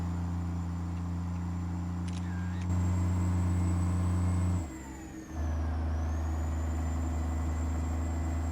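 A dump truck engine in American Truck Simulator drones steadily, then revs higher, dips briefly and picks up again, with a constant mechanical hum throughout.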